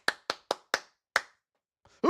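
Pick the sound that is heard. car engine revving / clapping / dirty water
clapping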